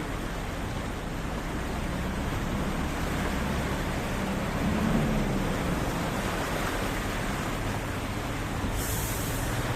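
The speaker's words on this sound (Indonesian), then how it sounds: "Ombak air lautan" Floodwater rushing and churning over a Trans-Sumatra highway after a full day of heavy rain, a loud, steady roar of surging water with no let-up for the whole stretch.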